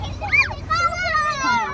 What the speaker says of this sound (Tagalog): Ingay ng mga bata eh.